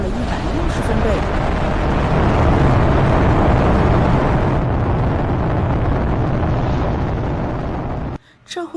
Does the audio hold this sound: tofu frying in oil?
no